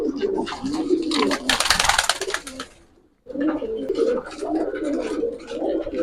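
Racer pigeons at a farm loft coo in low, mottled phrases close by, broken by a loud burst of rustling or flapping and a brief lull before the cooing resumes.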